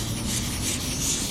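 Hand wet sanding of a rust spot on a car body with no sanding block, giving a steady, close, soft abrasive rubbing hiss that continues throughout.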